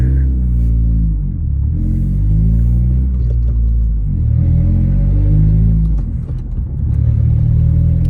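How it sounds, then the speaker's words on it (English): An Acura CL with its exhaust broken off at the converter drives slowly through a parking lot, giving a loud, raspy, blatty rumble that swells and eases with the throttle, close and continuous. "That exhaust sounds horrible. It's broken off right at the converter."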